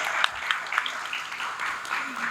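Audience members at a government outreach session on illegal cigarettes in Pati, Central Java, give a faint, scattered round of applause with a few sharper claps, heard somewhat distant under a room murmur.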